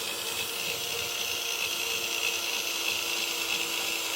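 Steady high-pitched whine of a small drill boring through a scallop shell, grinding continuously, with a faint gritty buzz underneath and no pauses.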